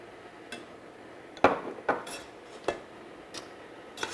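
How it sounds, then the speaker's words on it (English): A utensil stirs a sauce of sliced sun-dried tomatoes in a pan over medium heat, producing scattered sharp metallic clinks and scrapes, a handful of distinct knocks spaced irregularly over a quiet background. "And we're just going to stir this together."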